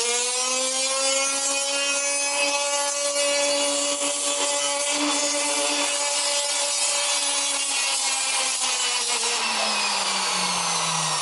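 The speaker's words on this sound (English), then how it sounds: "this is the way I sand the tree branches and all those hard to get to pieces." Flap sander working a hardwood tree-branch sculpture, a steady whining tone that holds level, then drops in pitch near the end as the pedal eases off. Close and continuous, with no talk.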